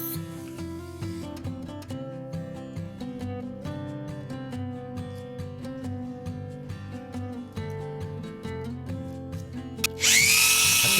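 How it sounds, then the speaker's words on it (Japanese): A drill bores bolt holes through a wooden post and beam for a hand-cut timber-frame garage, bursting in loud and close for the final second after a long stretch of music. "柱と桁をボルトでつなぐための穴を開けます。"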